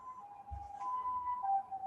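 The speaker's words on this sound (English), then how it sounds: "it's good, except for the sirens behind you" A faint wailing siren drifts in the distance, its pitch wavering up and down, with a low thump partway through.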